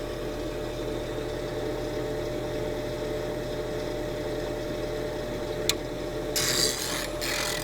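A blade bevel is ground against a WR diamond wheel, producing a steady, close rasping grind throughout, with one sharp click and a short burst of louder hiss near the end, with no talking.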